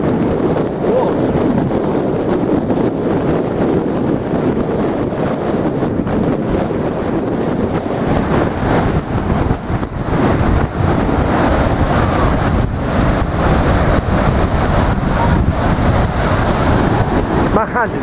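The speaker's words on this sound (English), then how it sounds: "It's because the wind's so strong coming off the sea." Strong sea wind buffets the microphone at Blackpool beach, a loud continuous roar mixed with crashing surf that never lets up for the whole stretch.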